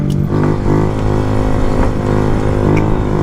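A Honda Grom motorcycle engine during stunt riding on asphalt, a loud, continuous mid-pitched drone with a slight rise and fall in revs and some clatter.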